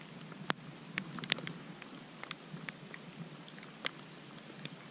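Light rain falls steadily outdoors during a fishing trip on an island, with soft scattered drops and occasional sharper taps against a constant quiet hiss, faint and without voices.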